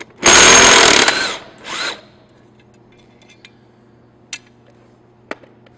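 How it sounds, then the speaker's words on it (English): An impact wrench removes a lawnmower blade with one loud, close burst of about a second, then a shorter second burst, followed by quiet with a couple of faint clicks. "I will place my hand here to hold the blade straight while I impact it off"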